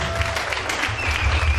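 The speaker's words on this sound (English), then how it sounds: "Can you please clap for yourselves?" A graduation ceremony audience at Southampton Private Academy applauds, a dense, continuous burst of many hands clapping close by, loud and steady throughout.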